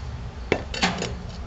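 Steel cooking racks are pulled from a Lang smoker built of quarter-inch rolled steel, giving a few sharp metallic clinks and scrapes close by over a low background hum, with no voices.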